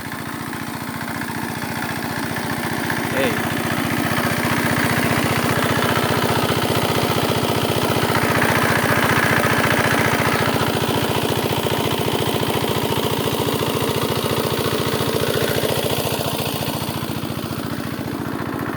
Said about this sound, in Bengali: শ্যালো মেশিন দিয়ে পুকুর থেকে পানি সেচ করে